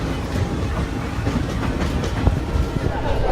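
Inside a moving passenger train in India near Hampi, a steady low rumble and rhythmic clatter of wheels on rails fill the carriage, continuous and close throughout.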